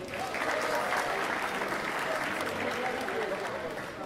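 Wedding guests applauding together in a dense, sustained burst of clapping that fills the room, steady from start to finish at a moderate level.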